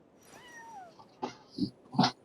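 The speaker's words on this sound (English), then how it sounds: "It's a cat." A cat in the video game Genshin Impact gives a rising and falling meow, followed by a few short, sharper chirping calls, close and clear with nothing else around it.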